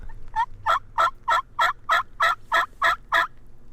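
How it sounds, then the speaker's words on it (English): A wild Merriam's turkey gobbles in Montana in a rapid run of about ten evenly spaced notes, clear and fairly close, with no other sounds over it. "now that gobble's in front of me"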